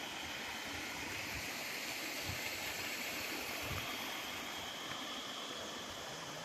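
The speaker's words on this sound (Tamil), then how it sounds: "பேக்ரவுண்டு ஃபுல்லாக வந்து பார்த்தோன்னா தண்ணி போயிட்டு இருக்குது நல்லா ஒரு அளவுக்கு" Steady rushing water of a rain-fed stream near a waterfall at Alasandrapuram, a constant broadband wash with no voices, close and even throughout.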